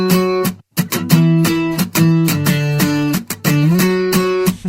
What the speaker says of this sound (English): and then the octaves themselves sound like this.